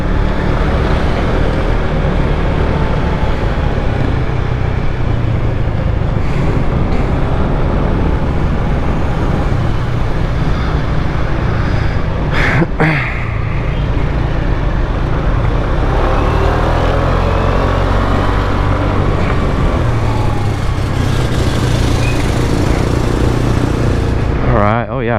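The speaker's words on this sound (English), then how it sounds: "Alright, oh yeah, I'm on a motorcycle." Motorcycle ride in Tagbilaran, Bohol, with a steady, loud engine drone and wind rushing past the microphone throughout, the pitch shifting slightly as the bike changes speed, with occasional talk over it.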